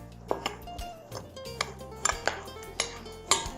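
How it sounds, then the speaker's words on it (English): A utensil stirs dry orange cake ingredients, including salt, in a mixing bowl, with a series of light clinks and scrapes against the bowl at an uneven rhythm, close by and fairly quiet, with no talking. "we're just gonna mix these ingredients together"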